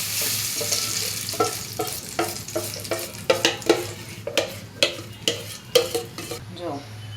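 Handvo batter with sesame seeds and red chillies going into a hot pan, sizzling steadily under a series of sharp clinks and scrapes of a utensil against the pan.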